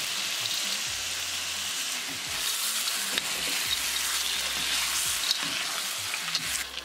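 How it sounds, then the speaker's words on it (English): Frozen sweet peas and paneer fry and sizzle in a spiced tadka in a pan, a steady crackling hiss with occasional stirring scrapes and small pops, close and alone without speech. "Once the paneer is nicely combined with the tadka, add sweet peas, matar."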